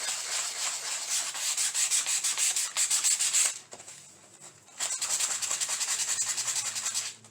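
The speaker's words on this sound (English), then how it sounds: "Now get you some sandpaper and just sand where that ribbon was. Sand it down just a little." Sandpaper is rubbed by hand over a Dollar Tree Easter craft piece where a ribbon had been, making close, rhythmic rasping strokes that pause briefly midway and then resume.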